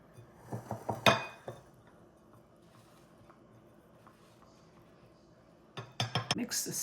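Spoon clinking and scraping in a bowl while mixing bread dough ingredients with applesauce, close bursts of rhythmic clatter at the start and end with a quieter stretch between.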